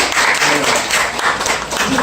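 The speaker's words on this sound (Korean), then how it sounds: "박수 한번 부탁드리겠습니다." Applause from a church congregation at a Korean worship service, a steady, dense wash of clapping that fills the room for the whole stretch, with some murmured voices mixed in beneath it.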